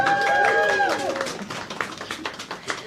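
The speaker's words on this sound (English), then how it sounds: "Can we give them all a big round of applause, please?" Audience applauding a panel at an evening art event, quick scattered claps rising after a voice fades, fairly close and lively with crowd murmur.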